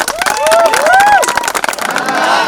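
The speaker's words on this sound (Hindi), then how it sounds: "एक बार इनके लिए जोरदार तालियां" Audience applause and cheering at a car celebration gathering, a dense steady wash of clapping lasting the whole moment, with rising whistle-like whoops near the start and voices mixed in.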